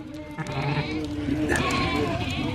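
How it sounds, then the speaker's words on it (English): Sheep bleating repeatedly in a group arriving along a countryside walk in Chapel-le-Dale, several overlapping calls close by over steady outdoor background noise. "There's some more sheep coming in now."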